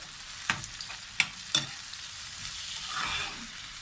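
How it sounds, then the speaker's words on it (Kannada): Tomato and green chilli frying with squid in a pan for a squid sukka, a soft steady sizzle broken by a few sharp stirring clinks, with no voices. "ಟೊಮೆಟೊ ಮತ್ತು ಗ್ರೀನ್ ಚಿಲ್ಲಿ ಎರಡು ಹಾಕ್ಕೊಂಡು ಫ್ರೈ ಮಾಡ್ಕೊಳ್ತೀನಿ"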